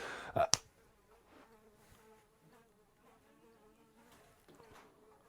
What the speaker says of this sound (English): Can you hear that wasp?